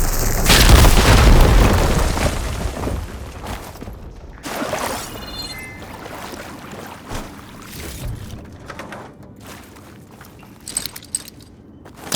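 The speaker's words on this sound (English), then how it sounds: "Should be able to blow up that fire gleam." A firegleam blast in the video game Horizon Forbidden West, a loud deep boom that opens the clip and rumbles away, followed by quieter footsteps and scattered debris sounds.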